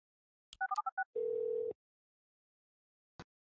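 Phone call sound in the Orwell game: a quick string of dialing beeps followed by a short steady tone that cuts off, then a single faint click after a pause, with no talking.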